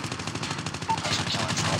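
Rapid MSMC submachine gun fire in Call of Duty Mobile, a fast run of sharp close shots with steady rhythm, under someone talking.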